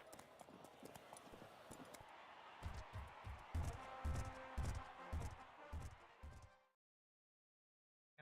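Galloping horses pound the track in the Gallop Racer 2004 video game, a rapid run of heavy hoofbeats over a faint background hum, then sudden silence.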